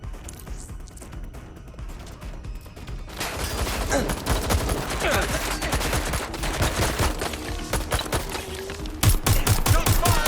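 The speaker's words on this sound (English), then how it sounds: "Shots fired!" Gunfire erupts in the video game Watch Dogs Legion, dense bursts of automatic shots building into a loud sustained fusillade with sharper, closer rapid cracks near the end.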